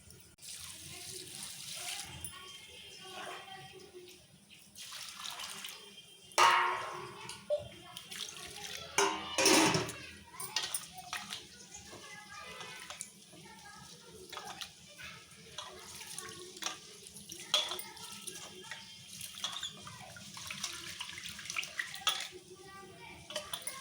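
Rice washed under a running kitchen tap with steady water flow, splashing and occasional clinks of a metal vessel, with a person talking at times over the water.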